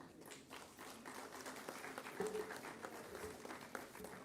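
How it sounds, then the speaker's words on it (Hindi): An audience at an agricultural research council foundation day award ceremony in Uttar Pradesh applauds a prize winner, a faint, steady wash of many hands clapping at a distance that lasts throughout. "जोरदार तालियों से इनका स्वागत और बहुत बहुत बधाई आपको।"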